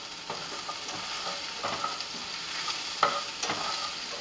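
Quinoa pilaf being stirred in a pan with melted butter, salt and pepper, giving a steady soft sizzle with scraping stir strokes and a few sharper clicks, close and without talk.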